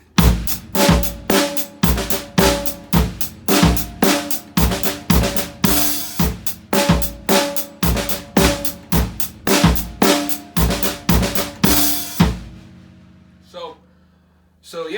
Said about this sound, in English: I started adding a little bit of ghost notes on the snare drum.